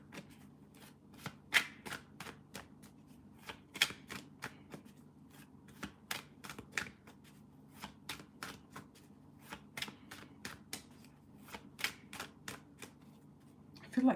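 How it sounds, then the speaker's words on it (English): A deck of cards shuffled and a card drawn, quick crisp riffles and flicks repeating steadily throughout, close and fairly quiet, with no talking. "Let me just pull a card for them."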